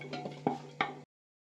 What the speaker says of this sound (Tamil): ஆட் பண்ணி கொஞ்சம் அப்படியே சிம்லேயே வச்சு நல்லா ஒரு மிக்ஸ் கொடுத்துக்கோங்க